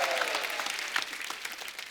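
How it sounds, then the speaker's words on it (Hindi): Enthusiastic studio-audience clapping on a televised Hindi comedy talk show as guests are welcomed, a bright, dense burst of applause that fades slightly over two seconds. "जोरदार तालियां"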